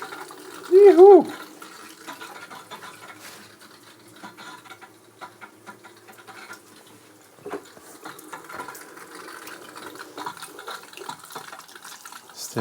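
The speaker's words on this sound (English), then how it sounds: "let's try to turn on hot water." Hot water tap turned on in a DIY off-grid home, giving a steady running-water hiss throughout, with a brief loud voice exclamation near the start and background clatter.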